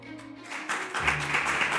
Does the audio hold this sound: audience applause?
yes